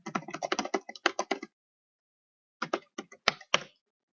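Someone types a password on a computer keyboard: a quick run of close, crisp key clicks, a pause of about a second, then a second shorter burst of taps.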